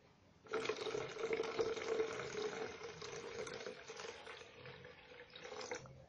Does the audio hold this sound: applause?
no